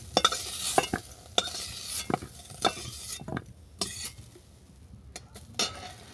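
Ivy gourd (kundru) frying in a pan, stirred with a utensil: a run of sharp scraping and clinking strokes at irregular intervals over a soft sizzle, close by with no talk.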